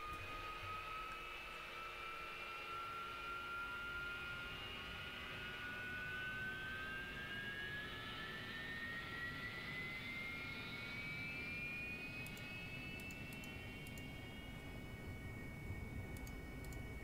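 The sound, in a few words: jet aircraft engine while taxiing, DCS video game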